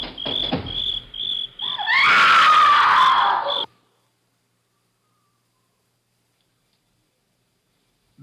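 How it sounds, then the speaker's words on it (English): A woman's scream in a radio drama, a loud wavering cry lasting about two seconds after a few chirping insect-like tones, then abrupt silence. "Sounds like a woman screaming."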